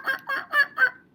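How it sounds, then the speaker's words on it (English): A black grouse calls with four evenly spaced, nasal, honking notes in quick rhythm. The call is close and clear, with no other sound. "Black grouse."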